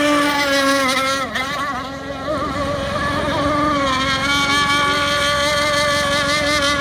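A scale model RC hydroplane race boat engine screams loudly at close range, a sustained high-pitched whine with wavering pitch and an uneven, sputtering misfire, alone without talk.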